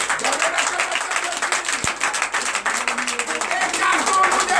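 A church congregation at a morning prayer service bursting into loud, sustained applause and cheering, with a voice over the top of it.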